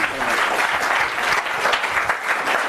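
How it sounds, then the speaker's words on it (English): Dense, loud audience applause at a live pitch competition finale, continuous and even throughout without speech on top. "round of applause for Jeff"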